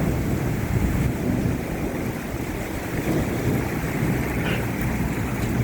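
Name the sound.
thunder cracks and rain in an unseasonal thunderstorm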